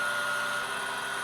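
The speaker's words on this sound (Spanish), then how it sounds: "esta pieza que veis donde he utilizado la lijadora de lápiz" Pen sander buzzing steadily against a small wooden part for a model ship, a continuous high whir held at an even level throughout, with no voices.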